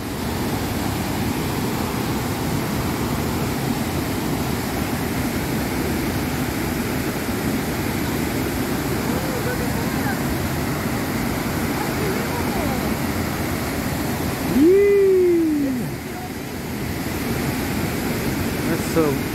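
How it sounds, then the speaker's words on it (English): Iguazu Falls in South America roars as a huge waterfall, a dense, steady wash of noise throughout, with a brief voice rising over it near the end. "The Niagara Falls of South America."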